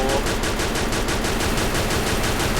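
Rapid gunfire from the battle-royale shooter game Free Fire rattles in a dense, continuous burst of loud, closely spaced shots, steady from start to end with no pauses.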